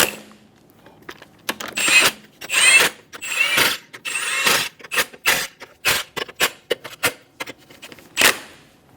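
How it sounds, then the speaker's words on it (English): A ratchet snugs the lug nuts on a 2003-2007 Honda Accord V6 wheel in quick bursts of clicking, close and loud, separated by short pauses and small metallic clatters; no speech. "Snug the nuts down."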